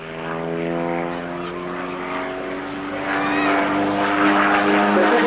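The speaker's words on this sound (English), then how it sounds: "demonstrate that individual brand of solo aerobatic flying" A propeller aerobatic plane built for unlimited aerobatics flies a solo display, its engine droning steadily with strong harmonic tones that swell louder and shift in pitch as it manoeuvres.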